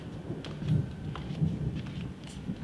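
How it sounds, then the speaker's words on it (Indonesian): Light drizzle falls outdoors as a faint, soft patter under low rumbling background noise, with occasional small drops and no one talking. "Ini udah gerimis?"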